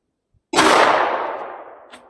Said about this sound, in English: those feel like good clean shots